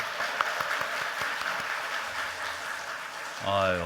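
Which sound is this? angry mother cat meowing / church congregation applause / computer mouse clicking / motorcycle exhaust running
church congregation applause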